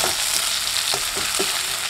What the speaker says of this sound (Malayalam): അതെല്ലാം കൂടി നല്ലപോലെ ഒന്ന് വഴറ്റിയെടുക്കണം.